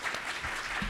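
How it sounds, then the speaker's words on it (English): Audience applause for panelists at a women business leaders forum breakout session, a brief, moderately quiet patter of many hands clapping in a room. "let's give them a round of applause"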